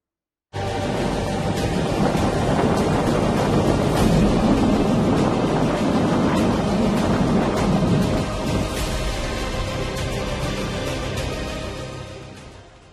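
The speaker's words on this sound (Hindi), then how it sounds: "चेन्नई में कल रात से बहुत तेज बारिश हो रही है" Heavy rain pours down on Chennai during Cyclone Michaung: a loud, dense, continuous roar that starts abruptly, holds steady, then tapers off at the end.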